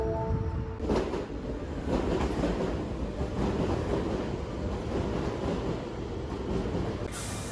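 An Osaka Midosuji Line train rolls along steadily with continuous rumbling and faint rhythmic clatter of wheels on track, heard from inside or close by, with no talking.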